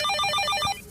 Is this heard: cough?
no